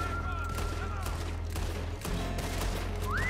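Gunfire in the Western video game Red Dead Redemption comes as a dense, loud burst of shots with steady game background noise.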